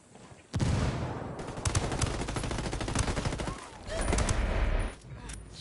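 Gunfire in the video game Ghost War erupts as dense, rapid bursts of close automatic shots, two long volleys separated by a short pause, with faint talk in the background.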